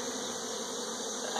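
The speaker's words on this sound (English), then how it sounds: "these bees right here" Honeybees buzz steadily in a hive, a dense continuous drone at moderate level with no voices.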